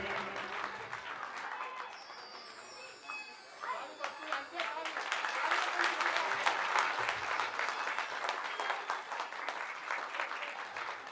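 Loud, sustained applause from a crowd welcoming Dinesh Bhaiya at a Shrimad Bhagavat katha, dense clapping swelling and continuing throughout while a voice talks over it.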